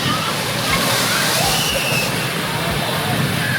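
Water splashes and sloshes steadily at a hotel kids' water playground, a continuous broadband wash with low rumble, heard alone without talk.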